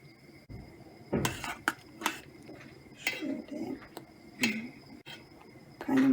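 Spoon clinking and scraping inside a pot as a cherry pudding mixture thickened with starch is stirred, a series of close metallic taps and scrapes at irregular intervals, with no talking.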